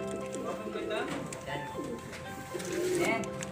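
Pigeons coo in a breeder section of a pigeon loft, low throaty burbling repeating through the clip amid busy, overlapping bird sounds and general loft noise.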